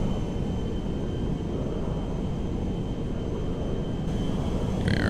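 Engines of a B-2A Spirit bomber climbing out in GTA 5, a steady, loud, even jet roar that holds without break, with a faint higher whine entering near the end.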